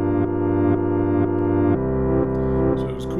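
Layered synth chords pulse on a house beat, a reverse sweep effect swelling toward the end with rising hiss and distorted echoing texture, loud and alone without talk.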